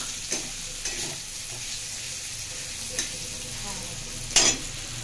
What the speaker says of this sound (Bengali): দেখো দেখো বন্ধুরা, চিংড়ি মাছ ভাজা হচ্ছে।